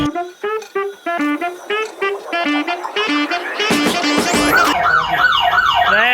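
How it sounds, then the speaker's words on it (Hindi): An alarm goes off inside an ATM booth, starting with a rapid series of loud electronic beeps and then rising into a continuous warbling, siren-like wail. "तेरे साथ एटीएम में घुसा मैं, अलार्म चालू।"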